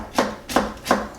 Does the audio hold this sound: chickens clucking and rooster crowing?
no